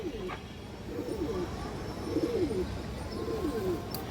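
Large crested pigeons cooing in repeated soft, rolling phrases, about three in a row, close by against a steady low background hum.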